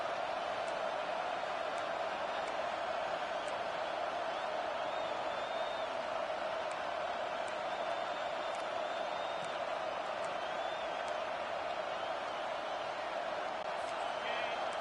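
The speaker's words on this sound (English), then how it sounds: "The roar of the crowd trying to fuel this defense to keep them pinned in their own end." Stadium crowd in an NCAA Football 25 college football game roars steadily as a broad, continuous wash of noise, loud and unbroken, with a commentator's voice talking over it.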